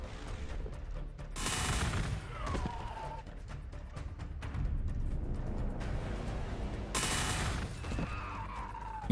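Bursts of gunfire crackle in Warhammer 40,000: Gladius as Drukhari forces fight, two dense volleys several seconds apart over a low rumbling battle backdrop.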